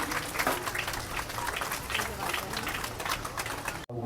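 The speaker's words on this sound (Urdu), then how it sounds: "تالیاں آپ کی نہیں رکنی چاہیے." An audience claps together at an education ceremony, a steady, dense wash of applause that runs unbroken and then cuts off sharply just before the end.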